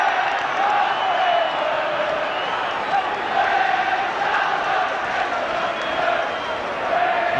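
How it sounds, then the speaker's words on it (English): Steady roar of a large football crowd at Molineux during the 1972 UEFA Cup Final first leg, Wolves against Spurs, a dense continuous swell of voices with rising shouts, heard at a distance throughout. "Listen to the Molineux crowd."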